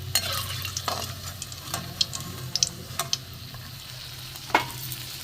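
Cauliflower stalk finger pakoras fry crisply in hot oil, a close steady sizzle with occasional stirring clicks and taps, heard alone.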